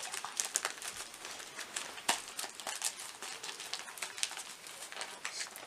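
Soft plastic crinkling and rustling as a small gift bag of presents is handled and opened at home, quiet and close with irregular bursts.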